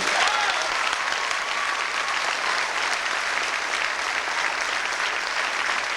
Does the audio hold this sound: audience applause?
yes